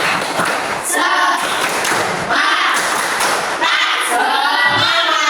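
Schoolchildren in an Indonesian classroom clap in bursts during a call-and-response clapping game, sharp grouped claps alternating with short pauses, with children's voices chanting between them.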